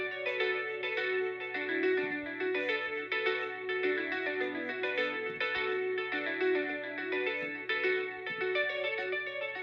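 A clean electric guitar riff from a Sunburst Electric instrument in a song cover, with ringing repeated notes trailing into delay echoes and reverb, played alone and clear.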